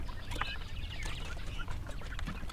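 Japanese quails, kept for their eggs, calling in a pen, a dense overlapping chatter of short chirps and clucks over steady background noise.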